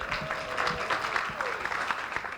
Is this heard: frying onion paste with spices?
no